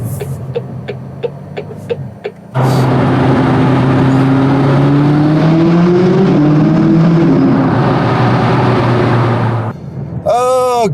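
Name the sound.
McLaren 675LT sports car driving past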